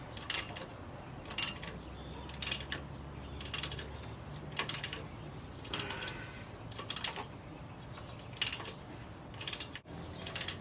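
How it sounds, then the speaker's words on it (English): Valve gear of a small engine under test with new pushrods fitted, the intake valve opening with a series of crisp mechanical clicks and ticks repeating at a steady rhythm, close and fairly quiet. "There's my intake valve opening again."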